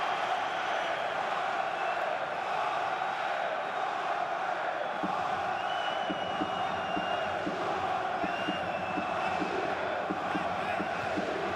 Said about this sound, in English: He tries to get the crowd a little G'd up behind Marius Müller's goal.